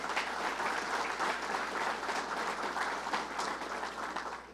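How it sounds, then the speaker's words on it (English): Round of applause from a crowd at a governor's jobs announcement for an HP Hood expansion in Batavia, a dense, even roar of clapping heard from a distance, sustained without pause. "Let's give the commissioner a round of applause."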